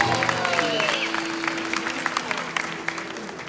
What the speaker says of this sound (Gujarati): વધાવો તાળીઓ ગણગણાટ